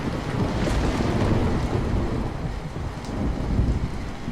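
Heavy rain pours steadily on a hut in a dense roar, heard from inside, with low rumbling thunder rolling underneath throughout.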